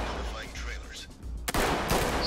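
Gunfire in the tactical shooter game Ready or Not cracks out loud and close in a couple of sharp bursts over a busy background of game noise.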